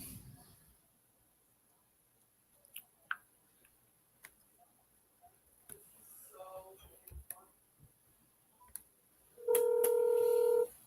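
Telephone dialing: faint clicks and handling noises come first, followed by a short run of touch-tone key beeps and then a loud, steady dial tone at the end.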